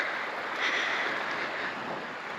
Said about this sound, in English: I hope the waves, if we can hear it above the winds, has produced a calming effect.